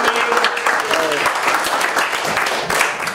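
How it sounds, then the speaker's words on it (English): A lively round of applause from the audience at a weekly startup meetup, with loud, close, rapid clapping that stays dense and steady, and a brief voice briefly audible within it. "So let's give them one more round of applause."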